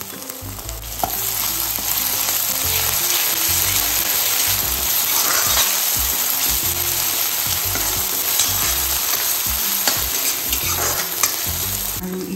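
Ginger-garlic paste, a little lumpy, fries loudly in a pan for a chicken liver curry, with a dense steady sizzle and occasional stirring scrapes, no talk.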